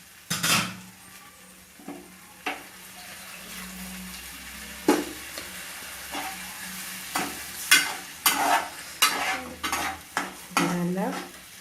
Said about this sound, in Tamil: நல்லா கொதிச்சு வரணும். நல்லா கொதிச்சிடுச்சு.